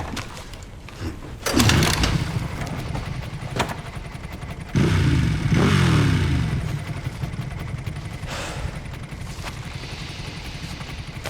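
A motorcycle engine in the video game Resident Evil Requiem roars up in two loud bursts with clattering, then settles to a steadier running rumble.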